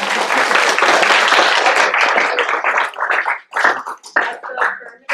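A hall audience at a debate-camp demo round breaks into dense, loud applause that holds for about three seconds, then thins into scattered, trailing claps before fading out.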